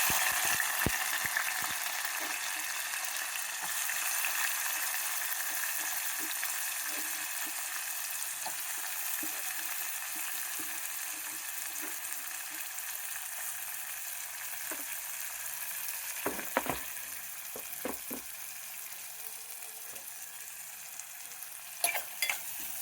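Onions fry with mustard and cumin seeds in hot oil, a faint steady sizzle lasting throughout with occasional soft scrapes and clinks of a spoon against the pan.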